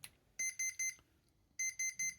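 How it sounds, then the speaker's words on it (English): A Hobbywing QuicRun WP 1080 G2 brushed ESC sounds two sets of three short, high, even electronic beeps, close and clear, separated by a brief pause in a quiet room. "Triple beep, which is forward and reverse."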